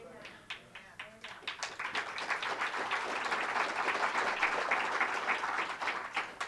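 An audience claps during a sermon, the applause starting as scattered claps and swelling into a steady, full round that holds and fades slightly at the end.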